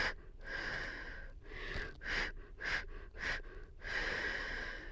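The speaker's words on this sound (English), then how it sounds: "and then you're doing the chest breathing." Rapid, audible chest breathing is demonstrated as a labor contraction coping technique: quick bursts of panting breaths, moderately close, with no talking over them.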